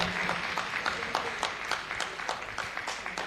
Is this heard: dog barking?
no